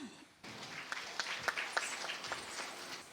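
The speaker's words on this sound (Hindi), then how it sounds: "तालियों से बच्चियों का उमंग बढ़ाए।" Audience applause for young girls at a Hindi welcome ceremony, a faint, distant patter of scattered clapping that swells after a brief quiet start and continues steadily.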